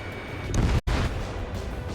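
A missile striking a ground target in the flight combat game Ace Combat 7: Skies Unknown, a heavy rumbling explosion with a dense low boom that cuts out briefly and then continues as a loud roar.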